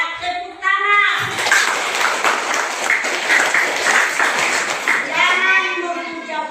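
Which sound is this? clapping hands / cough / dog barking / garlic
clapping hands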